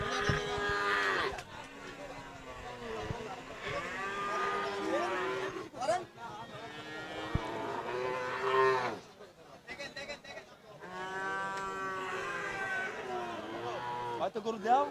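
Australian and Sahiwal cattle at the Aronkola livestock market in Pabna moo repeatedly in long, drawn-out calls, close and fairly loud, with people's voices mixed in.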